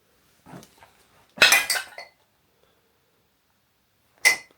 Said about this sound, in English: There's so many wine bottles all over the floor here, guys.